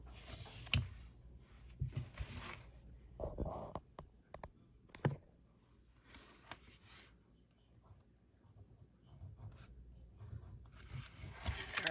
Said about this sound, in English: let's go ahead and use this pen to write my name on this.